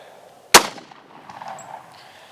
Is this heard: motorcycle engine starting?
no